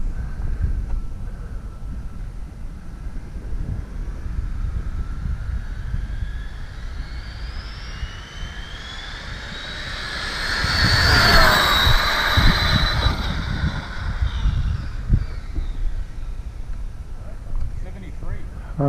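An Arrma Kraton RC car with 29t/34t gearing makes a speed run pass outdoors. A thin electric whine rises and sweeps past close by at full volume midway, over steady wind noise on the microphone.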